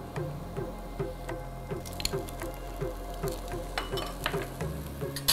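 Chopped red and yellow bell peppers stir-frying in a pan, a soft continuous sizzle with repeated scraping and squishing strokes of a spatula at a steady rhythm, close and fairly quiet.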